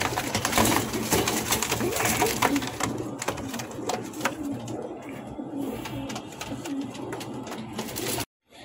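German Shield running pigeons coo in a close, fairly loud series of soft throaty calls, with shuffling and rustling around them and no talking, then the sound cuts off abruptly near the end.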